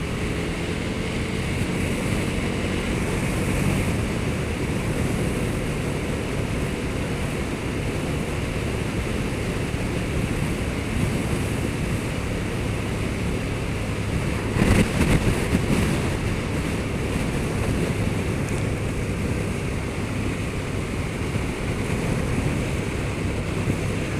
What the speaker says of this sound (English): So that was a little ride on the KTM 1290 Super Duke GT